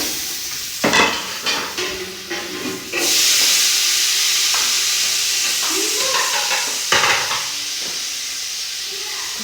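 Chicken frying in a pan, with macaroni boiled separately, sizzles and hisses loudly while a utensil scrapes and knocks against the pan in irregular bursts of stirring.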